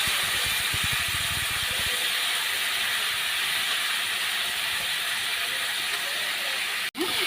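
Raw banana pieces tipped into a pan of frying onions and chillies raise a steady, close sizzling hiss, with a single soft knock near the end.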